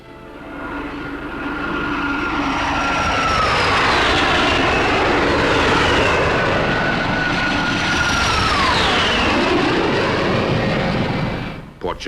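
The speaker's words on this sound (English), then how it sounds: "Portugal's air squadrons are equipped with NATO jets." NATO fighter jets of the Portuguese air force roar overhead, a loud, sustained engine rush whose pitch sweeps and shifts as the aircraft pass, then cuts off abruptly.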